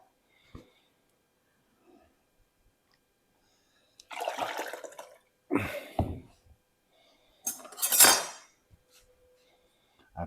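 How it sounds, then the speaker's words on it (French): Pumpkin flesh poured and scooped into a pot, heard as a few separate wet splashing and clattering bursts between quiet gaps, fairly close. "On prend le reste de citrouille et on le verse dans un contenant. Un chaudron."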